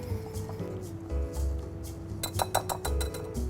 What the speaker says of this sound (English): And we'll just whisk it together.